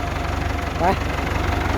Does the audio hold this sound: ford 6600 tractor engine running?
yes